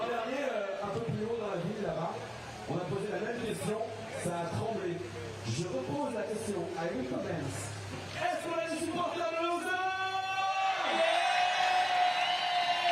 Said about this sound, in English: All right, you can hear the crowd.